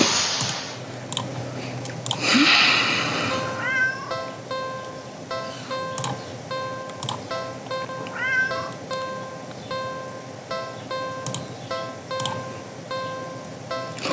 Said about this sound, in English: The cat lets out a sad, pleading little sound. It's hungry.